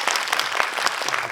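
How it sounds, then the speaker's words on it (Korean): Brief burst of audience applause at a film festival Q&A in Busan, dense clapping from a crowd filling the short moment without talk. "박수가 조금씩 나오고"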